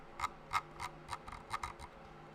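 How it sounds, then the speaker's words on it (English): Soft, light ticking clicks from a Logitech G Pro Wireless mouse scroll wheel, about eight or nine spaced unevenly, quiet and close with no talking. "Very, very quiet scroll wheel click actually"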